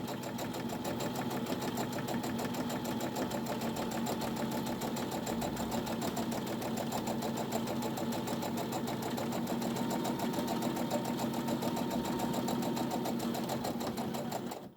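A sewing machine runs steadily for about fifteen seconds while stitching up the side of a tote bag, giving a continuous close, even mechanical whir with a rapid needle rhythm and no pauses.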